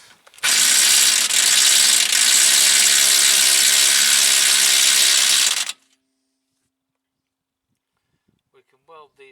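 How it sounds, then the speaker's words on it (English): An impact wrench tightens nuts on the rear wheel bearing of a diesel Jaguar X-Type in one loud, steady burst of about five seconds, followed by silence and then a few faint sounds. "So now I push these on and done them up a bit with a whizzy gun."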